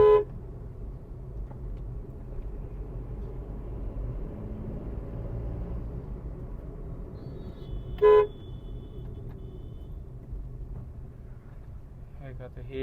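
Congested road traffic with a constant low engine rumble, broken by a short car horn blast at the start, another around two-thirds through, and a faint toot at the very end.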